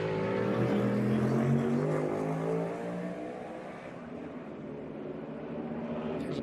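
NASCAR Cup Series race cars practicing on the Chicago street course, a loud engine drone with rising and falling harmonic sweeps as a car accelerates and passes, fading somewhat toward the end.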